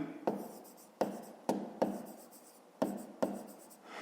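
A pen or pencil writes a math solution by hand on paper in six short, sharp scratchy bursts, each fading quickly, close and quiet with no talk.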